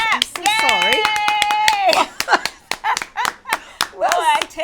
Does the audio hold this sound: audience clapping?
yes